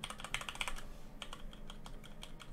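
Rapid clicky keystrokes on a computer keyboard, one key hammered over and over during a stuttering Apex Legends session on an i9-13900K / RTX4090 PC; quick bright taps in bursts, close and clear with no voices.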